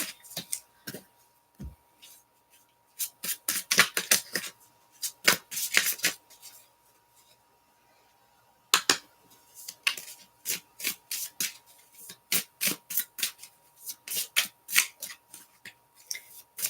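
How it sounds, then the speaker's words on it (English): Tarot cards are shuffled close up in quick clusters of crisp riffling and tapping bursts, separated by short pauses and one longer silence midway. "I'd show you me shuffling, but it doesn't work because you can't shuffle down here, really."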